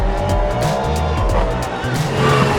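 Race cars roar past at a motorsport race, a dense, continuous engine din with rising and falling passes and some tire noise, loud and close throughout.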